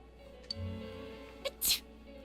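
A character in Persona 4 Golden gives a single short, sharp sneeze close by, following a brief soft sound and a quieter puff, over a faint steady game ambience.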